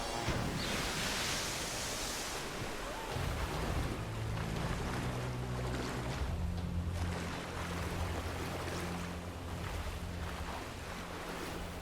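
River water rushes in the Tomb Raider video game, a loud continuous broadband roar of flowing water with a low droning tone joining partway through, steady throughout with no talking.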